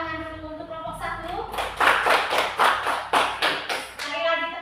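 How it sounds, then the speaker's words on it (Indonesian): A classroom group claps in unison for a presenting student group, a run of loud rhythmic claps over a few seconds with children's voices before and after. "Tepuk tangan dulu untuk kelompok 1."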